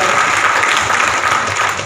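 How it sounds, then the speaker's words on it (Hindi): Crowd applause at a BJP political campaign rally in Airoli, a thick continuous wash of many people clapping, loud and steady for the whole stretch. "जोरदार ताली से एक बार फिर से स्वागत करूँगा"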